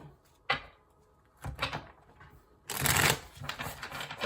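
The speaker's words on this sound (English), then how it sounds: "Last shuffle." Tarot cards are shuffled in a few quick riffling bursts, the last one longest and loudest, with brief pauses and soft handling noises between.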